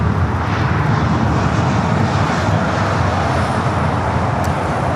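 A United Airlines Boeing 737-800 bound for Puerto Vallarta takes off at LAX, its jet engines producing a loud, steady, broadband roar that stays close and constant throughout.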